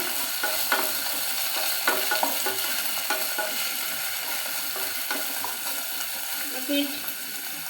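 Chopped onions and carrots sizzle in a hot pan for carrot pulao, a steady frying hiss with repeated scrapes and knocks of a spoon stirring them, close up.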